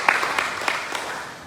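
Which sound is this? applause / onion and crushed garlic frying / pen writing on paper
applause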